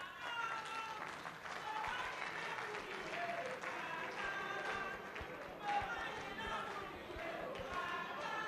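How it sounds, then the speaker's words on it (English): An audience at a live interactive session in Owerri claps for Dr. Amadi, a dense, steady round of applause that carries through the whole stretch while voices talk over it. "Can you just get up and clap for Dr. Amadi?"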